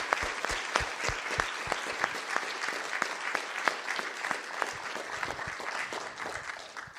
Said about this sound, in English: we should give Oliver another round of applause for a really thought-provoking and amusing talk